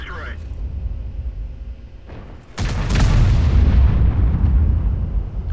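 An artillery gun fires a single shot in World of Tanks from a Bat.-Chatillon 155 58: one loud, close boom midway through, with a long rumbling tail over steady game background noise.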